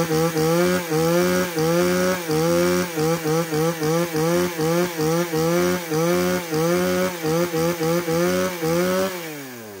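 Shindaiwa chainsaw running loud and close, its two-stroke engine buzzing in a steady series of rapid rev pulses that rise and fall before dropping away at the end.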